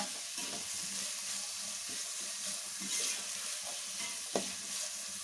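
Cooked rice frying in oil for street-style fried rice, a steady sizzle with soft stirring scrapes and one sharp utensil clack near the end.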